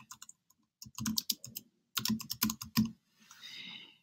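Rapid keystrokes on a computer keyboard as a website address is typed, arriving in short close bursts with brief pauses between, then trailing into a soft hiss.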